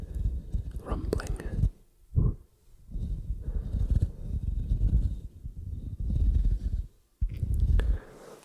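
Deep, bassy rumbling scratches on a fuzzy microphone windscreen, up close and continuous in several bursts with brief pauses, no talking in between.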